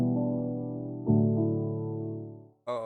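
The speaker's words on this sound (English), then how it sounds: "I used a realistic piano from Citrus," A realistic sampled piano plugin by Citrus, EQ'd, plays a few sustained chords in a new school kwaito beat, each struck chord ringing and slowly decaying, with a fresh brighter chord entering near the end.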